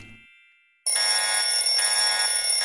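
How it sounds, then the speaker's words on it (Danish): An alarm bursts on abruptly after a near-silent moment, a loud, piercing electronic ringing with steady high tones that continues unbroken to the end, with no talking. "alarmen er gået!"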